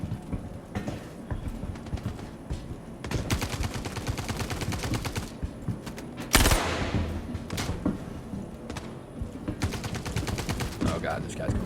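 Star Citizen gunfire, with sharp bursts of shots in clustered volleys and one especially loud blast near the middle, over rhythmic clattering game sounds.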